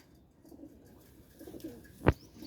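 A pigeon kept by a rooftop pigeon fancier gives a soft, low coo over quiet background noise, followed by one sharp, loud knock or clap near the end.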